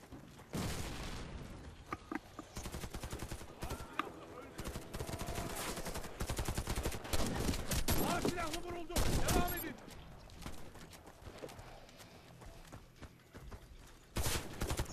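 Rapid bursts of gunfire from the shooter video game WarFace crackle throughout, with dense overlapping shots that rise and fall in loudness at a moderate distance.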